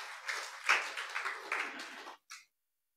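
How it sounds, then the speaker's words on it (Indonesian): A church congregation claps during a sermon, a short ragged round of hand claps that rises, thins out and stops, followed by a final brief burst and then silence. "Berikan tepuk tangan dulu bagi Tuhan"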